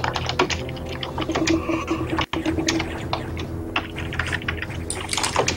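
Rapid typing on a computer keyboard clatters steadily, close and busy, with dense key clicks and one brief dropout partway through, during a Metroid Fusion speedrun marathon stream.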